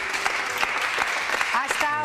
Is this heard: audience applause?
yes